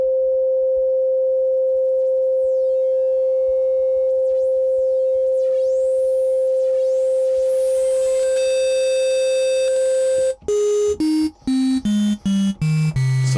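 A steady pure synthesized tone holds for about ten seconds, then steps down in pitch through a series of short choppy bursts.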